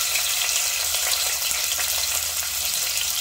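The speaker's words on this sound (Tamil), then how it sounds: "அதை சேர்த்திட்டு நல்லா 2 நிமிஷத்துக்கு அதை வதக்கி விட்டுடலாங்க." Sliced big onion sautéing in hot oil for tiffin sambar gives a loud, continuous sizzle and crackle with faint stirring, close up and with no voices.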